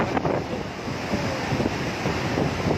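Heavy dam release of about 22,000 cusecs, a loud, steady broadband roar of rushing water with gusting wind buffeting the microphone throughout.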